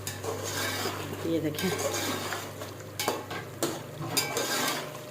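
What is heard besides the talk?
meat being fried and stirred in a pot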